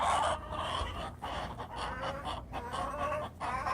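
Backyard chickens at a rat-proof feeder in Arizona cluck softly and repeatedly, their short calls close and steady over a faint outdoor background, with no one talking.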